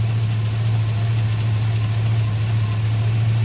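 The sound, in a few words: Tahoe engine running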